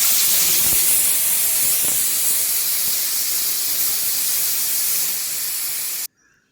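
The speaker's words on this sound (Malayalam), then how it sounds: "ലാസ്റ്റ് വിസിലടിച്ച് ഓഫ് ചെയ്ത് വെക്കാം" A pressure cooker holding beef lets off steam in a loud, steady hiss that runs for about six seconds, then cuts off abruptly into near silence.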